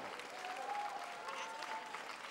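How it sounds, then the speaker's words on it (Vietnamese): Audience at a dance competition gala final applauding two dancers after their performance, a soft, steady patter of clapping with faint voices mixed in. "Xin một tràng pháo tay nồng nhiệt cho Hải Anh và Minh Tuấn thưa quý vị"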